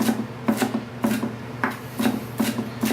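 Knife mincing cilantro on a cutting board for salsa, with steady rhythmic chopping taps about twice a second, close and moderately loud, with no talking.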